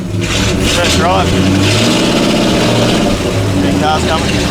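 A 1934 Ford coupe's engine runs loud and close on its first drive, a steady rumbling drone with rising revs, while people talk over it.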